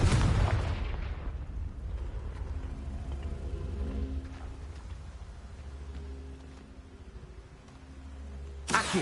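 A Confringo spell explosion in the Hogwarts Legacy video game opens with a loud, sharp blast. A low rumbling tail follows and fades over several seconds, and a second burst comes at the very end.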